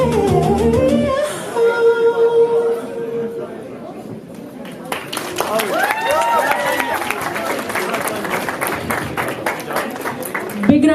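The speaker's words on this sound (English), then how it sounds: "Big round of applause to Shreya and Shrija" Guests at a graduation celebration applaud the dancers Shreya and Shrija, with steady clapping, scattered cheers and crowd chatter following the end of the music.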